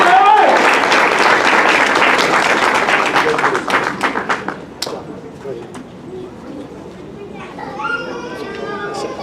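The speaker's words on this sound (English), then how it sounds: "how about a round of arousing applause for these 20 graduates?" Applause from the audience at a graduation ceremony, loud and dense at first, then thinning into scattered claps and fading. A voice speaks briefly near the end.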